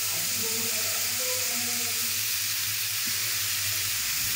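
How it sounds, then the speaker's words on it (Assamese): Crushed garlic and ginger sizzle in a hot pan while chicken is being cooked, a steady close frying hiss that holds through the whole stretch with a faint low hum beneath it. "নহৰু আদা দি দিলোঁ ভালকৈ হিলাই ল'ম"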